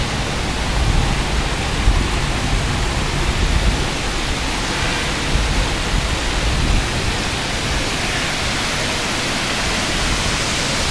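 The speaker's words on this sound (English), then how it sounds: "Ooh, pretty waterfall." A waterfall in the Kuala Lumpur Bird Park pours with a steady, broadband rushing hiss, loud and continuous with slight surges, no voices.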